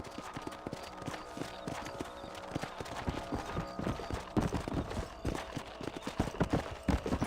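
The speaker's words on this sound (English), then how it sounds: "Let's get back on the horses and see what else is going on." Horses trotting in the Western video game Red Dead Redemption; a continuous, brisk clip-clop of several hooves on dirt ground, fairly close, with rhythmic beats growing louder toward the end.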